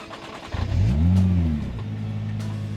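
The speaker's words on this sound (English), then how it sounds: "what I have here is the Nissan GT-R Nismo, a faster and more powerful version of the car" A 2019 Nissan GT-R Nismo engine revs up sharply, swells to a loud roaring peak, then settles into a steady idle rumble, close up with no voices.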